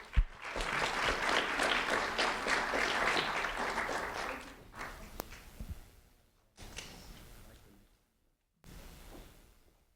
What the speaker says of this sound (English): a round of applause for Azarias Felipe,